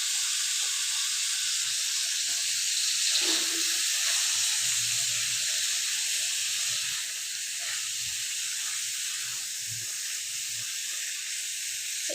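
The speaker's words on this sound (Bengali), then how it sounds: "এইটাকে ভালো করে ভেজে নিব যাতে তার কাঁচা গন্ধটা চলে যায়" Palash seeds are fried in a pan for a fish curry, producing a steady, close hiss and sizzle that runs without pause and eases slightly partway, with faint clatters underneath.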